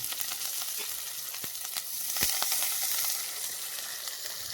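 Tomatoes and shallots sauté in a hot pan, giving a steady close sizzle and crackle with a few sharp pops standing out, and no voices over it.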